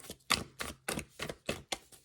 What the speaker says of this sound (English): before I continue shuffling